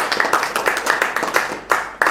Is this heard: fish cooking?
no